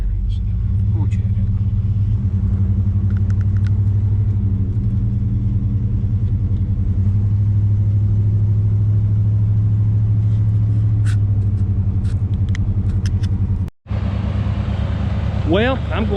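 A 1989 GMC service truck engine at high idle gives a steady, loud low rumble that holds through the whole stretch, with a brief cut near the end before it resumes.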